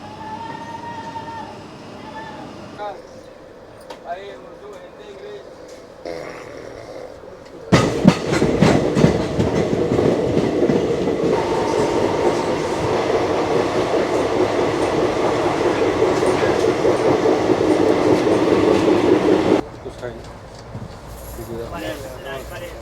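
The Vibhuti Express passenger train running on rails, its loud steady rumble and clatter of wheels filling most of the stretch after a sudden start, then dropping away abruptly near the end; a voice is briefly audible.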